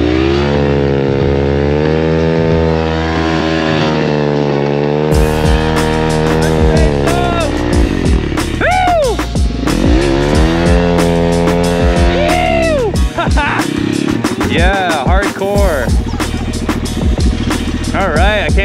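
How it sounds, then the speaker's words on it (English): A dirt bike revs hard for a burnout outdoors, its engine loud and close, climbing and dropping through repeated throttle blips after a steadier idle-like drone. "want to see if we can do a burnout on this bike."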